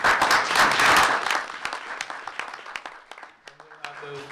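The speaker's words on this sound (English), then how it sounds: "give them a round of applause for that" Applause at a school board meeting is loud at first, then thins into scattered claps that fade out as a voice begins speaking.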